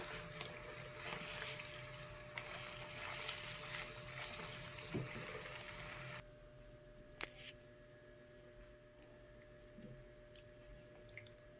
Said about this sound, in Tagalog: niligyan po natin ng tubig yan